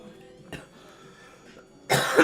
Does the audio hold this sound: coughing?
yes